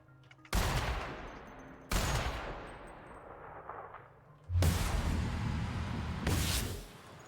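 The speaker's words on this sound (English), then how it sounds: "I'm just firing enough warning shots to try and make that that Sprat appreciate its life." Warning shots from a gun in the video game The Outer Worlds crack out in four loud, separate bursts, each with a ringing decay, spaced unevenly over several seconds with near silence between the first ones.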